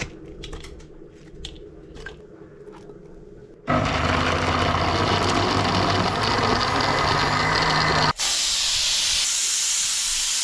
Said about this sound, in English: Still sizzling.